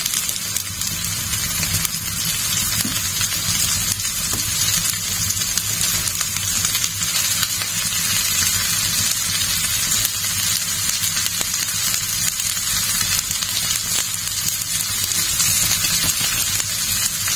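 Ridge gourd pieces hit a hot pan with small mourala fish, giving a steady, even sizzle and hiss of frying that holds at a constant level throughout, with no voices.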